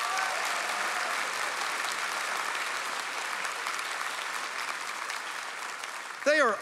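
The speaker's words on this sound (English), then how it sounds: "Let's give them a round of applause." Audience applause fills a hall at a national middle school science quiz competition, steady and sustained throughout, with a brief voice breaking in near the end.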